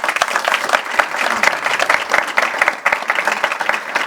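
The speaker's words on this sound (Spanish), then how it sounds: "Un aplauso para él." An audience applauds a pianist at an outdoor poetry and music event, dense steady clapping from many hands that fills the whole stretch.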